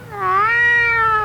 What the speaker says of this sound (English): All except Lucifer the cat.